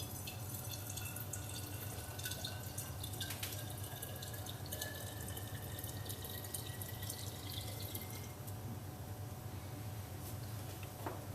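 Water runs in a steady, faint stream from a lab bench carboy into a vessel to dilute 50x TAE buffer, a continuous quiet flow with occasional drips.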